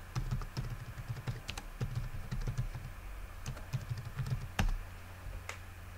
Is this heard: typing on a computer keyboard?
yes